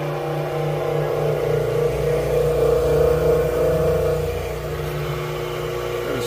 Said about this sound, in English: Motor's all rebuilt. I can't believe how quiet this thing is.